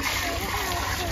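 Fresh water is poured out for buffaloes to drink, making a brief, close splashing and sloshing sound, with a voice faintly present underneath.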